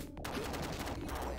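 Dense burst of rapid gunfire from the Demolition Man game on the Sega Mega Drive, a steady loud volley lasting about a second and a half with no talking.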